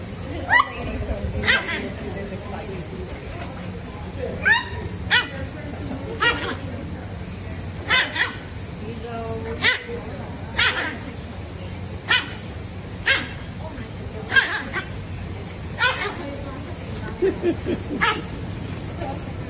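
Pug dogs, one about seven months old, playfully fighting, with repeated sharp barks and yips in bursts spread throughout, close by, mixed with laughter and people talking.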